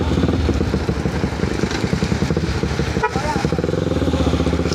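A large motorcycle engine runs close by with a loud, continuous chugging rumble, steady throughout and briefly overlapped by someone speaking near the middle.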